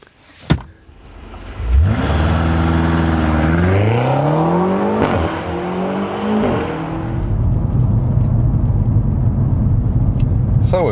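BMW M5 G30 engine accelerating hard on a racetrack, a loud roar climbing in pitch through several gear changes after an initial sharp knock, then settling into a steadier rumble close to the car.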